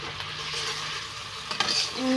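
Turmeric, ginger paste, chilli paste and spices are stir-fried in a pan. A soft steady sizzle sits close by, and a few scrapes and knocks come from a spoon, with no talking.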